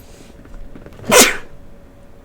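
A single sharp sneeze bursts out mid-clip while someone sculpts a character in clay, loud and close, rising quickly and trailing off against a quiet room.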